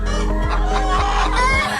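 A flock of about 300 hens clucking inside a coop kept for omega egg production, a dense, continuous chorus of overlapping clucks and squawks with no clear gaps, close and fairly loud.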